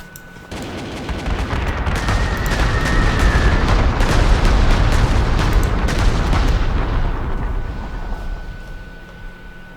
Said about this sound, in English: go off perhaps on your own and bomb this anti-tank unit right there